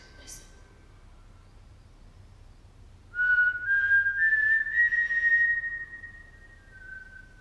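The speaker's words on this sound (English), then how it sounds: "Can we have another whistle?" A steady, wavering whistle comes through a ghost-hunting machine inside a large London remand prison. It starts after a quiet pause, holds for several seconds, and then fades slightly toward the end.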